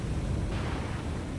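A naval shell strikes home in the War On The Sea naval combat game, a sustained, dense rumbling blast that holds steady and loud across the moment, with a brief brighter swell near the middle.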